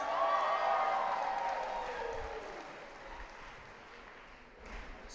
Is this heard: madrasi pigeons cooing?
no